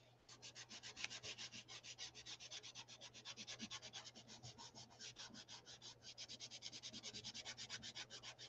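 Paper being rubbed steadily for an image transfer in an art journal, a fast, even back-and-forth scrubbing that continues without a break, close and fairly loud, with no voices.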